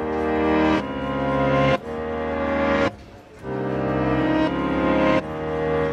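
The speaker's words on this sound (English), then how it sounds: "So that was a piano in reverse" Synthesizer piano tones played in reverse, with long sustained chords that swell gradually and cut off abruptly, repeating in a slow cycle of about five swells with no talk.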